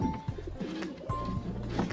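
Crested pigeons coo nearby in repeated low, throaty rolling calls, with a faint chirp in the background and no one speaking.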